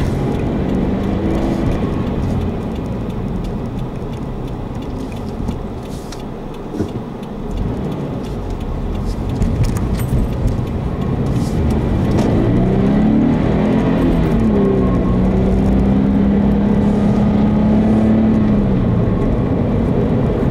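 A Scion FR-S / Subaru BRZ with short shift transmission drives along, its engine droning steadily from inside the cabin with road rumble, a dip and then a rising, revving pitch as it accelerates.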